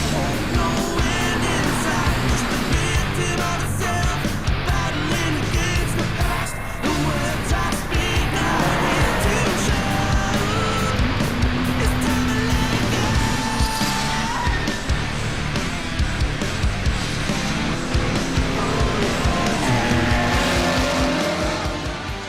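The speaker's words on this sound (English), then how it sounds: "There is Phil Collard in the Mazda at the back of the field" GT Cup race cars, including a Mazda, racing on the Brands Hatch Indy circuit, with dense overlapping engine roars, revving and shifting as cars pass close by, continuous and loud throughout.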